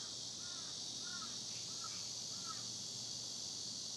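A crow caws four times in an even, unhurried series, moderately distant, over a steady high insect drone and low background hum.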